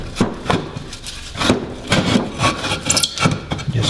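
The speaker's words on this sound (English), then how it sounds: "You just jam a piece of wood in there," A block of scrap wood is jammed into the mulching cut-out on the side of a rear-drive lawn mower, giving a series of close, knocking, scraping wooden bumps and rubs at an irregular rhythm.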